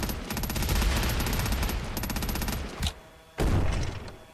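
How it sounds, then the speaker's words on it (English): Rapid automatic gunfire from a weapon in the zombie-defence game Quarantine Zone, dense and loud for several seconds, then a short pause before another heavy burst; no clear single rocket blast stands out. "These get taken out better with the rocket launcher."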